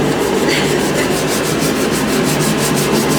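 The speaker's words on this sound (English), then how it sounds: "So we're just sanding this with some 180 grit" 180-grit sandpaper rubs by hand over bare metal in quick, even back-and-forth strokes, a close, continuous scratchy rasp with no talking.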